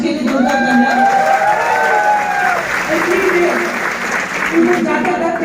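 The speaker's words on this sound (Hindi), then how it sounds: "मिस्टर राजेश यादव जी सर के लिए जोरदार तालियां।" Loud audience applause and cheering for Mr. Rajesh Yadav, a thick wash of clapping with whoops and shouts rising over it, while an amplified voice carries over the crowd.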